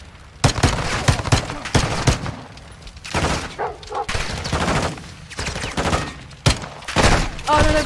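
Heavy gunfire fills a Call of Duty Modern Warfare II campaign firefight, with repeated loud bursts and sharp shots in close succession and a voice talking intermittently beneath the shooting.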